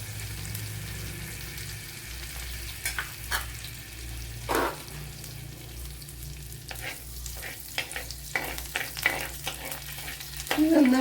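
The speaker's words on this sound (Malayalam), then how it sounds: "ഒരറ്റ അര ടീസ്പൂൺ ജീരകം ഇപ്പോൾ വൺ ടേബിൾ സ്പൂൺ വെളിച്ചെണ്ണയാണ് ഒഴിച്ചു കൊടുത്തത്" Cumin seeds frying in coconut oil in a pan, a steady crackling sizzle with a low hum beneath and repeated spoon knocks and scrapes, louder crackles building toward the end.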